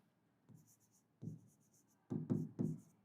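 Pen scratching on paper while writing out a physics formula: a few short bursts of strokes separated by pauses, quiet and close, with no talking.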